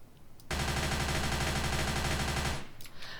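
Sustained automatic fire from an AMP45 submachine gun in the video game Darkest Days, a loud, continuous rapid burst lasting about two seconds with no talk over it.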